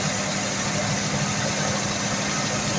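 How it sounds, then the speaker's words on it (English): An Oldsmobile Cutlass engine idles high and steady, and the choke may be at fault. A constant, close mechanical hum with a continuous rumble runs from start to finish with no change. "It idles kind of high too."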